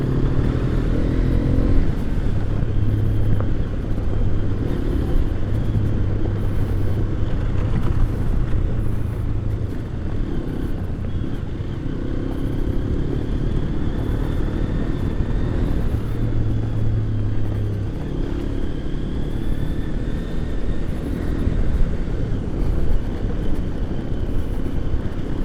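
Hero XPulse 210 motorcycle ridden with a 170 kg payload on rough roads, a loud, steady engine drone and wind rumble heard close throughout, with slight changes in pitch.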